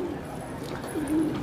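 A kalsira pigeon sitting on a rooftop gives a short, low coo midway through, near and moderately loud, over light outdoor background noise.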